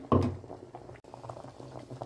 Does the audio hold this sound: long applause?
no